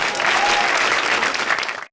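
Loud, dense applause from a studio audience at a Turkish comedy show, a burst of clapping that runs strongly for a moment then cuts off abruptly.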